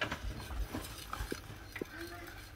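Cheese fondue mixture being stirred with liquid in a pot, soft scraping and occasional light clinks of the utensil against the pan, quiet and close over low background hiss.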